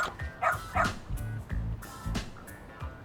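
A dog in the video game Lost Judgment barking in a quick series of short, sharp woofs and yips, close and clear over faint game background sound.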